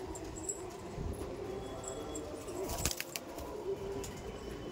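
Old Sulemani Kagzi pigeons coo softly and intermittently amid a quiet, steady room hum, with a brief faint rustle midway.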